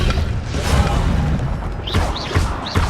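Incendio fire spell cast in Hogwarts Legacy, a loud roaring whoosh with rumbling bursts followed by a few quick rising swish effects from combat spells.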